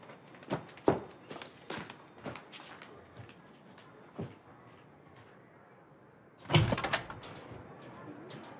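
Footsteps cross a room on a telenovela set, then a front door is opened with a brief, fairly loud clatter near the end to let in a repairman who has come to fix a broken shower.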